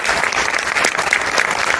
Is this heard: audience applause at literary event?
yes